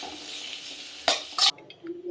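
Soft sizzling of mint mixture in a pan with a couple of brief scraping stirs, then a quieter pause and a faint clink.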